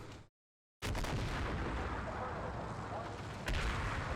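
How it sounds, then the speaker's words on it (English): Artillery bombardment in the Cold War wargame Combat Mission, a loud rumbling barrage of booms that cuts out briefly near the start, then resumes as continuous heavy fire with a sharper blast toward the end. "All sorts of artillery going here"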